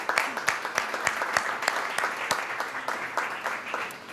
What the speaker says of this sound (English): So a round of applause, please, for the jury for being here today